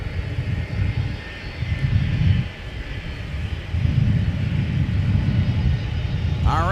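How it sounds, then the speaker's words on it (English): A Delta Boeing 757-200 airliner taxiing at Minneapolis–Saint Paul airport, a continuous loud engine rumble and whine that swells and eases over several seconds outdoors. "It's the 757-200."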